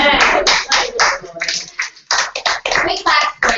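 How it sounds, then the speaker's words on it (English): A small group at a team meeting clapping in uneven bursts with short gaps, close and fairly loud, with some talking mixed in. "We clap for you, but you get 2 rounds of applause."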